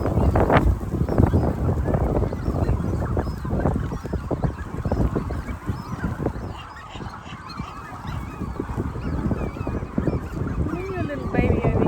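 Young seagulls calling in a loud, dense, continuous chorus of honking, squawking cries at close range, with a crowded, overlapping texture throughout.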